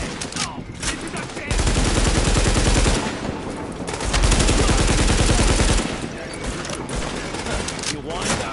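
Heavy automatic gunfire in The Division beta erupts in two long loud sustained bursts of rapid shots, with lighter shooting continuing between and after, while people talk over it.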